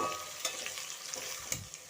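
Okra fries in oil in a pan with a soft, continuous sizzle, broken by a couple of quick stirring scrapes in a brief, fairly quiet burst.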